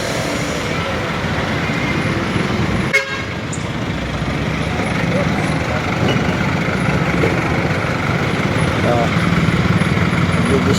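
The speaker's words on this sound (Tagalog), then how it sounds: "traffic traffic na dito sa Nopaliches" Morning street traffic in Novaliches with trucks and engines idling, a steady loud roadway drone with a car horn toot, continuing throughout.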